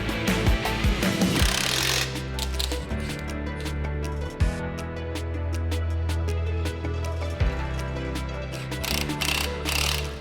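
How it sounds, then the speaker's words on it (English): An impact gun with a 3/4 inch socket works on the caster arms of a Toro Multiforce, giving loud rattling hammer bursts with short pauses and mechanical clunks between them. "All you'll need for that is a 3/4 inch socket and the same impact gun."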